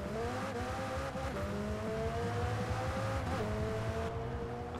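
A sports car engine in Forza Horizon 4 drones and revs steadily, pitch gliding up and down as it shifts, loud and continuous without any talking.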